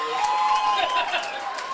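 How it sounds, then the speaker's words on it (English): Crowd noise from the stands at a homecoming night high school football game in Cochranton, a dense roar of cheering and clapping sustained across the moment, a commentator's voice faintly mixed in. "the crowd eating it up right here in Cochranton on homecoming night"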